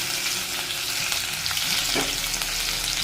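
Green chilli pieces sizzle in hot tempering oil, giving a steady, close, dense frying hiss with a faint stirring scrape partway through.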